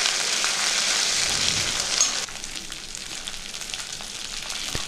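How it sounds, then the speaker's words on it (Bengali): Ginger paste and green chili paste drop into hot oil with five-spice seeds and fry with a loud, dense sizzle that settles to a slightly softer, steady crackle partway through. "আদা বাটা, কাঁচা লঙ্কা বাটা তেলের মধ্যে দিয়ে দিচ্ছি।"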